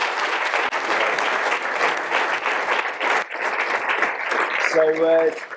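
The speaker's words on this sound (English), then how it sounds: "Could we give her a round of applause?" Round of applause from an audience at an evening lecture event, steady dense clapping for several seconds that thins out near the end as a voice begins to speak.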